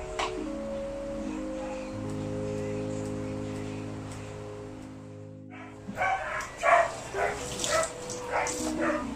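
Five hungry dogs bark and yip excitedly just before being fed, in several loud, close bursts that follow a stretch of steady background music.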